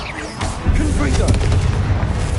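A Confringo blasting spell bursts in Hogwarts Legacy, a sharp booming impact followed by rumbling crackle over a couple of seconds, loud and close amid busy combat noise and voices.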